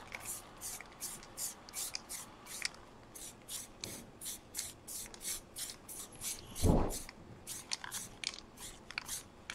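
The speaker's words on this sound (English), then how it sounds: "I'm going to do it with the spray paint" Black spray paint hisses from an aerosol can onto a face stencil in repeated short bursts with a steady rhythm, close and fairly quiet, with a brief louder knock partway through.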